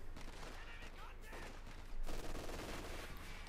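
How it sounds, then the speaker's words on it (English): Gunfire from a Company of Heroes 2 match as a sniper fires from beside a half-track, heard within a dense, continuous battle mix of shots and rumble that grows louder around the two-second mark, with a commentator's voice faintly beneath. "Pop the sniper out, get a shot off, then back into the half-track."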